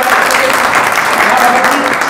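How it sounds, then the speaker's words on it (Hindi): Audience at a political party rally in a Hindi-speaking town clapping loudly to welcome a party member, a dense, continuous burst of applause. "जोरदार ताली बजा के स्वागत करिए।"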